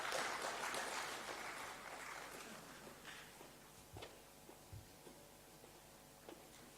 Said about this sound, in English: A big round of applause for the professor.